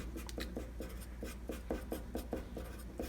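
Pen scratching out math steps on paper, a steady series of short rhythmic strokes close up and faint over a low constant hum.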